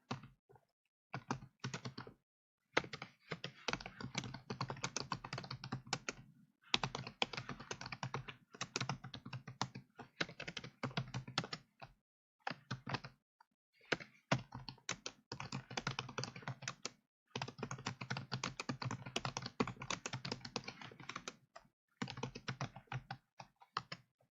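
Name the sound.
typing on a computer keyboard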